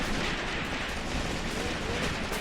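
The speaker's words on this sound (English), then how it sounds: "Now our next artillery strike is being prepared." An artillery strike pounds the battlefield in the World War II strategy game Graviteam Tactics, Operation Blau: a continuous, loud barrage of overlapping blasts and rumbling gunfire with no pause.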